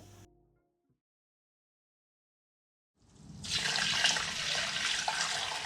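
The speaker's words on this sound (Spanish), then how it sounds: "Vertemos el caldo en el arroz." Hot broth pours into rice for a Murcian caldero, a steady gushing liquid stream that starts after a few seconds of near silence and runs on loudly to the end.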